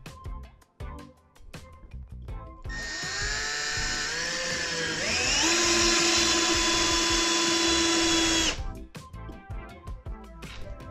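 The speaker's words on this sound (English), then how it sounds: "This should be the maximum for driving wood screws in a wood." A cordless Milwaukee M12 drill driver drives a wood screw into wood, a rising whine that climbs in pitch and holds steady for about six seconds before stopping, with quieter handling clatter around it.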